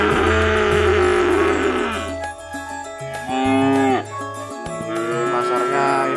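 Cattle lowing at the Plaosan cattle market in Magetan, East Java, at the foot of Mount Lawu: several loud, drawn-out moos follow one another closely amid a busy market background.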